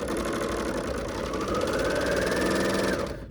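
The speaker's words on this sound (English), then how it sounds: "I'm doing just a 3-thread overlock stitch" A sewing machine runs a 3-thread overlock stitch along the sides of a bag, a close, steady, rapid mechanical whirr that carries on without a break and then stops at the end.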